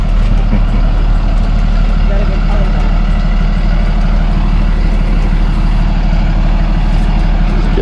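A school bus idles loudly with a steady low engine drone as a child climbs aboard, voices faintly present beneath the rumble.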